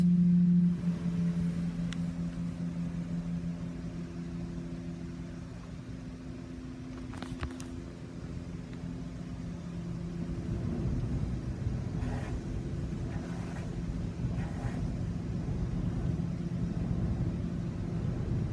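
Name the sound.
Istobal MNEX 22 car wash high power rinse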